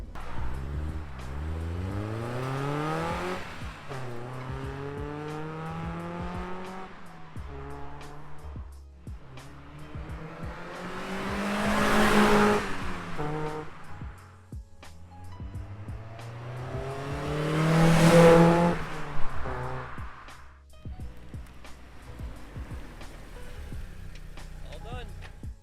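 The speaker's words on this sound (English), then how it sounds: "I really like this exhaust for what it's used for" An NB2 Mazda Miata with an aftermarket exhaust revs in two loud swells, rising and falling, while people talk over the rumble between revs.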